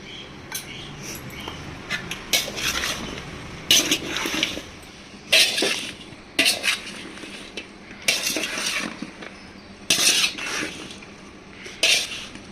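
Mango pickle pieces being mixed with turmeric and spices in a metal vessel, repeated scraping and clattering bursts of stirring at an uneven rhythm, close and fairly loud.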